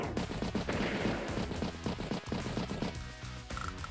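Rapid, dense gunfire from a tank battle in the Advance Wars strategy video game, with overlapping bursts of shots packed into a steady barrage that fills the whole moment.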